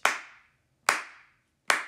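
A preacher's hands strike together three times in slow, even succession, crisp and near, each clap followed by a short room echo and quiet gaps.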